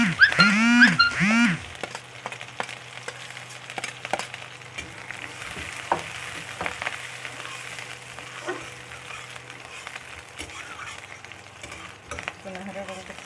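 Chillies, garlic and ginger frying in a pan, a steady soft sizzle and stirring scrape running throughout, with a few louder clatters near the start and faint background noise.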